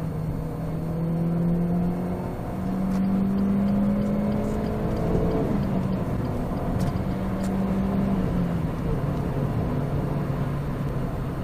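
A powerful car drops a gear and accelerates to overtake, its engine note rising steadily and then settling into a strong, continuous drone heard from inside the cabin with no talking.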